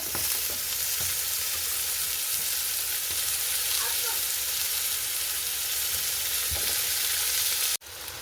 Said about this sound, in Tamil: இப்போ இது வதங்கி கொண்டு வர்ற இந்த நேரம் நாங்கள் வெட்டி வச்சுருக்கிற தக்காளி பழத்தையும் இதோட சேர்த்து கொள்வோம்